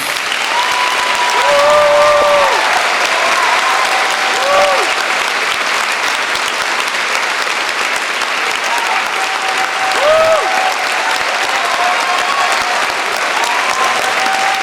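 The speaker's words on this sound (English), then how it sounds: "give them a big round of applause" A large audience at an evening event honoring a distinguished guest gives a long, loud round of applause, a thick continuous roar of clapping with a few voices and brief tones rising over it.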